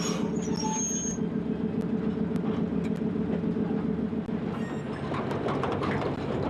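Locomotive rolling past during train shunting, a steady loud engine rumble with rhythmic wheel clatter on the rails, close and continuous throughout.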